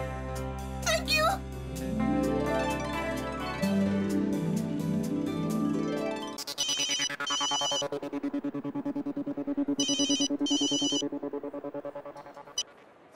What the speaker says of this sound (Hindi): ये फोन उठाने में इतनी देर क्यों कर दी?